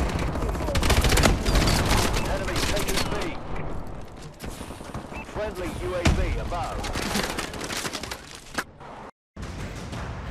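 MP11 submachine gun firing in Call of Duty: Advanced Warfare, with no attachments, sounding as dense, fast bursts of loud close-range shots that repeat across the stretch with brief gaps.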